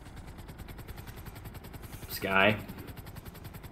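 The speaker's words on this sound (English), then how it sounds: "Are you in a helicopter too?" A helicopter flies in the video game GTA 5, its rotor chop a steady rapid pulse throughout, briefly overlaid by a single spoken word near the end.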